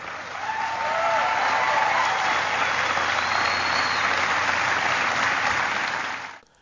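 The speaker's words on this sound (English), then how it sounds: "I left that applause in" Sustained applause from a large audience after a line about the Flat Earth Society, a dense steady wash of clapping that swells quickly, holds for several seconds, then cuts off.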